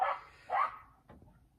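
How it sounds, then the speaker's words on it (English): Two short dog barks from outside, somewhat muffled and distant, followed by a faint softer yelp in a quiet indoor setting. "Dogs are barking out there."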